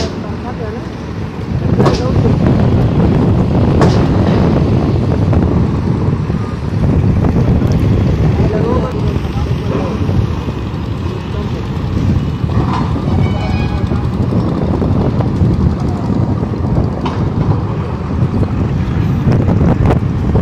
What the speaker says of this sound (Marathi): इंजिन चालू आहे बघा पाण्याचे करंटशीच कती फास्ट चालली